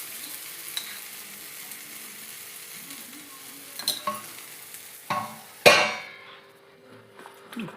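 Talipattu flatbread cooks in oil on a pan with a soft, quiet sizzle, broken by a few light scrapes and clinks and one sharper knock near the end.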